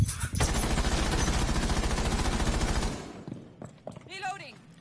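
Sustained automatic gunfire in the tactical shooter Rainbow Six Siege, loud and dense for about three seconds, then breaking off into a few scattered shots while players talk.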